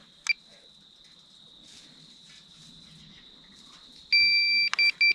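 A DJI Mavic Mini drone and its controller pairing: a steady high electronic tone runs throughout, then a short burst of repeated sharp beeps near the end, close and fairly loud with no talking.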